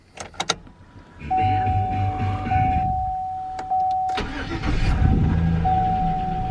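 A truck's ignition key is turned on, then the engine cranks and starts, settling into a steady loud idle with a faint whine running over it; a few sharp clicks come just before.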